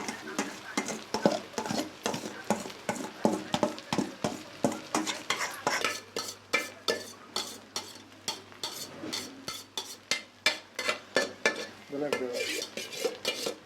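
A spoon stirs drained rice into fried rice in a pan, giving steady repeated scraping clinks and light sizzling at close range for the whole stretch.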